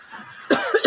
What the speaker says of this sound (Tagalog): Sobrang init dito sa inyo, kaya inuubo ako.